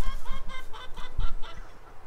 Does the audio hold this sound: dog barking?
no